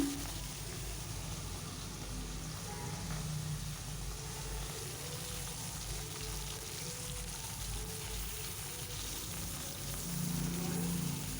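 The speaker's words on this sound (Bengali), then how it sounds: "আর কড়াইতে আমি সরিষার তেল গরম দিয়ে দিচ্ছি। এখন মাছগুলো ছেড়ে দিচ্ছি।" Small puti fish fry in hot mustard oil in a kadai, giving a soft, steady sizzle and hiss that holds quietly throughout, with no talking.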